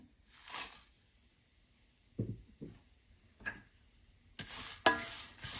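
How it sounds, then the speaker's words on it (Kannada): Curry leaves drop into a hot pan and crackle in a few brief, quiet sizzling bursts, separated by stretches of near silence and soft stirring scrapes. "ಈಗ ಕರ್ಬೇವಿನ ಸೊಪ್ಪು ಸೇರಿಸ್ತಾ ಇದ್ದೀನಿ"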